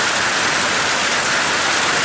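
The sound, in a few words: rain falling on apples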